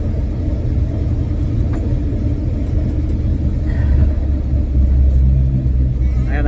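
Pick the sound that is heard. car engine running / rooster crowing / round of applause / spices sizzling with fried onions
car engine running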